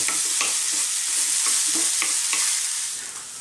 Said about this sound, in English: So we're on a very high heat. Let's just turn these around for about a minute or 2. Keep stirring all the time.